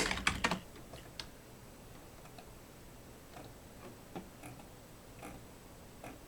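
A computer keyboard tapped out a short search, a quick burst of clicks at the start, then scattered, faint single keystrokes in a quiet room.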